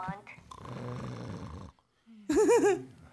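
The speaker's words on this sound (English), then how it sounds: "they're sleeping, obviously. That's why they're snoring." Cartoon characters snore in the Adventure Time: Pirates of the Enchiridion video game, drawn-out rumbling snores and a wavering whistled exhale, close and fairly loud with a short silent gap between them.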